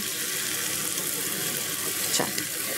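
Water pours steadily into a pan of potato chickpea masala, a continuous close rushing hiss with a slight splash near the end and no talking.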